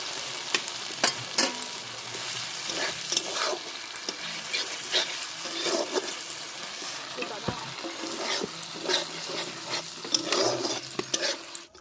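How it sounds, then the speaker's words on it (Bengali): Spice paste for a meat curry frying in a pot over a wood-fired clay stove, crackling and sizzling continuously under repeated stirring scrapes, with no one speaking. "চলো মশলাটাকে কষিয়ে নিই"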